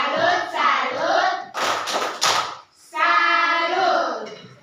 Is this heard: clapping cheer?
yes